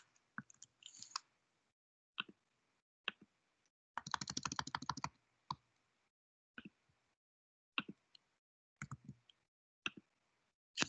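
Computer keyboard typing, close and quiet: scattered single key clicks and one quick rapid run of keystrokes, with silence between.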